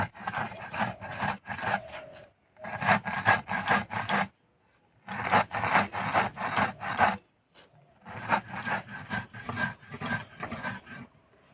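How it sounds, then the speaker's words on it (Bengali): Cardamom pods and sugar are ground in a grinder in four separate bursts, each about two seconds of harsh, gritty rasping with short silent pauses between them. The sound is close and clear, with no voices. "এই এলাচ গুঁড়ো করার সময় যদি একটু চিনি দেওয়া হয় না তাহলে খুব সুন্দর গুঁড়ো করা হয়"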